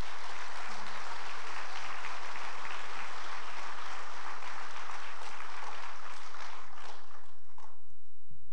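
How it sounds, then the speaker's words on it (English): A graduation awards crowd applauds honor graduates with dense, loud, sustained clapping that fills the room before tapering off at the end. "Let's give all of our honor graduates a round of applause."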